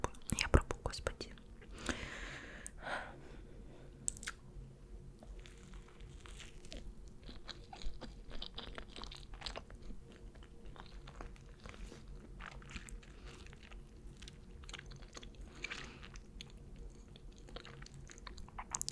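Close, crunchy bites and soft chewing of a fish burger with cucumber and cheese from Vkusno i tochka, steady mastication with faint whispery breaths throughout.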